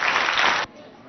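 Audience applause welcoming three students of a Catholic school to a televised school quiz contest, a dense burst of clapping that cuts off abruptly after about half a second, leaving low room noise.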